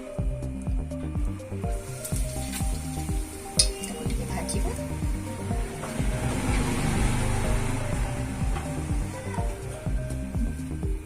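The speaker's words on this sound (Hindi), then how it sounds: "रिफाइन तेल को हमें गरम करबा" Refined oil heats in a hot pan, giving off a soft continuous sizzle and crackle while music plays and a person speaks over it.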